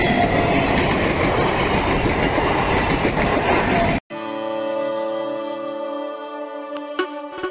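A train rattles loudly past the Kadamgachhi railway level crossing, its wheels clattering close by for about four seconds before an abrupt cut to music.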